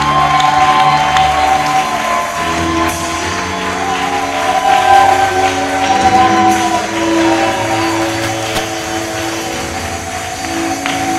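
A church congregation at a French-language communion service cheers and applauds loudly in a sustained wave, with organ or keyboard tones sounding underneath throughout.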